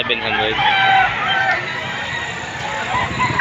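A rooster crows loudly close by at a chicken sale in Padre Garcia, Batangas, one drawn-out call followed by clucking and other fowl, with people talking in the background.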